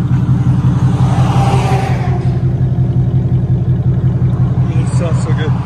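A Ford Mustang GT 5.0 with true dual straight-pipe exhaust, an X-pipe and quad tips idles nearby in a loud, steady, deep rumbling burble, with a voice talking over part of it.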